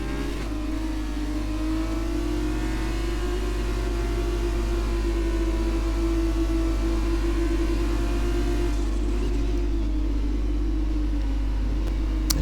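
F2 race cars run slowly in a group behind the safety car in a video game at the Brazilian Grand Prix, a steady mid-pitched engine drone with a constant low rumble. No one talks.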